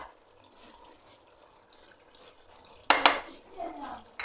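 A spoon scrapes and clinks against a pot as a potato, carrot and peas curry with garam masala is stirred, at first faint and soft, then a sudden louder clattering burst near the end.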